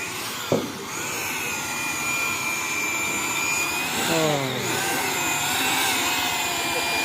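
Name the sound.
drilling during bridge construction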